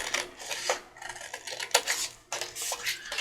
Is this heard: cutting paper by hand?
yes